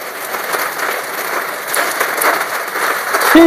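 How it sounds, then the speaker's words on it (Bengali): Heavy rain starts falling outdoors where pigeons are kept, and it makes a steady dense hiss and patter across the whole stretch that grows slightly louder toward the end, with no voices. "স্পিডে বৃষ্টি শুরু হয়ে গেল"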